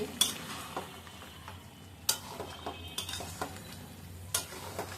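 Curry being stir-fried in a pan, with faint sizzling under scattered sharp clicks and scrapes of a spoon against the metal, quiet and close, no speech.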